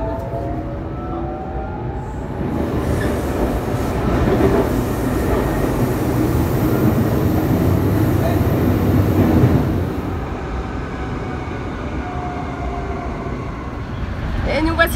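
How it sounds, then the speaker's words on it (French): Steady rumble and rattle from inside a moving Paris metro train, swelling louder in the middle as it runs, with faint voices beneath the noise. "Voici dans le métro."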